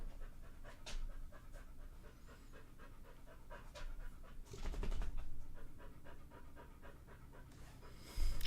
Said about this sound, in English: Are you hearing this dog?